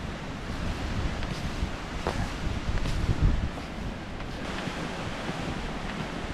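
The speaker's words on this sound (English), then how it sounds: "It is very windy today." Strong gusting wind roars across the microphone on a snowshoe trek toward Finch Lake in Wild Basin, Colorado, a continuous broadband rush that swells and eases without any voice.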